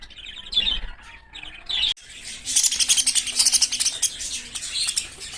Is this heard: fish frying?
no